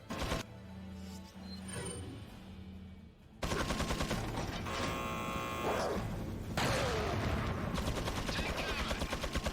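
Rapid automatic gunfire in Resident Evil 4 rattles in fast bursts, then gives way to a harsh buzzing, crackling volley that continues to the end, loud and mechanical with a voice talking faintly underneath.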